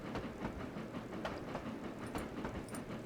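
A long express train on the Cornish main line in Trainz Railroad Simulator 2019 rolls along with a steady rumble and rhythmic clickety-clack of wheels over rail joints, continuous and moderately quiet.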